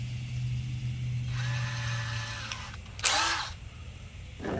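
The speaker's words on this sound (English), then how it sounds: "you will just basically drill your holes in the side" A power drill whines steadily, then a short burst of high-pitched drilling with a 5/32 bit bites into material before the motor winds down, heard up close.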